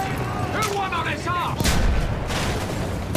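Bombs and grenades exploding in the Battlefield 1 mission Through Mud and Blood, several heavy booms and blasts, loud and close within continuous battle noise, with someone talking over it.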